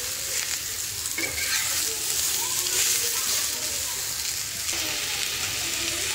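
Radish slices frying in a pan with garlic paste, a dense continuous sizzle and hiss with stirring scrapes and spatters running close and loud throughout.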